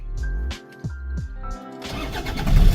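A Toyota Vigo 4x4 with a 3.0 engine and automatic transmission cranks in a few rhythmic starter pulses, then catches and settles into a steady, rising diesel-like running rumble, close and loud.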